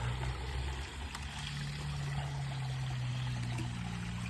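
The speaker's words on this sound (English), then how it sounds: "you pull it out, and you'll see it and hear it shooting out" Waste from an RV black water tank rushes out through the drain pipe in a steady, close gush with a low hum underneath and no talking.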